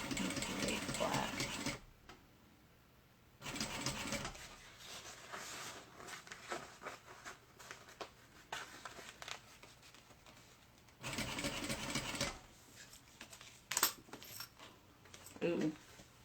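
Sewing machine stitching the vinyl and lining of a mini backpack, running in loud bursts at the start and again near the twelve-second mark with quieter handling noises between, while a voice speaks briefly.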